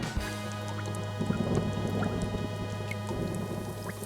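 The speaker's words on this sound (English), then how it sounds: "it's starting to rain" Rain begins in an outdoor creek setting, with scattered drops pattering and dripping over a steady hum, faint rumbling underneath, and no one talking.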